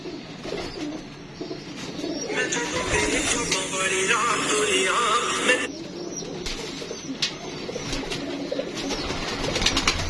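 Pigeons coo repeatedly nearby, soft throaty calls layered over a busy background hiss, with no one speaking.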